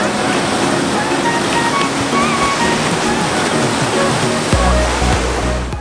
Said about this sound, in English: So I'm just gonna go out to the beach side and check out some waves.